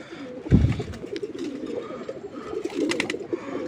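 Giribaz pigeons kept at home give a loud low coo near the start, followed by softer, continuous cooing and rustling from the flock.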